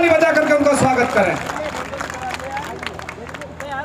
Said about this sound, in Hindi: एक बार जोरदार ताली बजा करके उनका स्वागत करें।